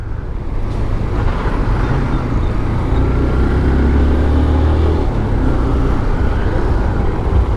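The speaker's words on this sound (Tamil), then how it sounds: "இதுக்குள்ள எவ்வளோ டிராஃபிக்னு தெரியல." Steady, dense road traffic on a mountain road between Kandy and Nuwara Eliya in Sri Lanka, a continuous loud engine rumble that holds without a break.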